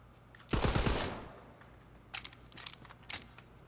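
Gunfire in the video game Tiny Tina's Wonderlands, a loud burst of rapid shots followed by a few lighter, scattered pops, with no talking over it.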